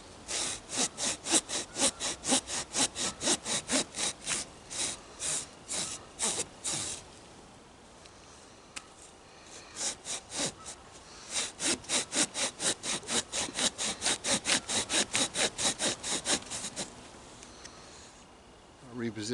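A Hooyman 8-inch folding saw cuts through pine in fast, even rhythmic strokes, a rasping run of about fifteen strokes, a short pause, then another steady burst of sawing close by.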